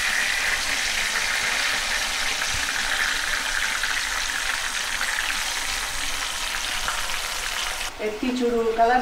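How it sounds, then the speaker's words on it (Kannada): Marinated prawns for a Mangalore-style ghee roast fry in a pan with a steady, moderate sizzle that carries on continuously, ending in a brief stirring clatter. "ನಮ್ಮ ಮ್ಯಾರಿನೇಟ್ ಮಲ್ದಿತ್ತಿನ ಎಟ್ಟಿನ ಫ್ರೈ ಮಲ್ಪೋಡು"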